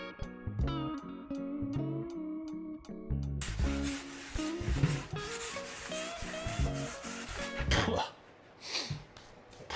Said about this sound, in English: The sanding that came afterwards.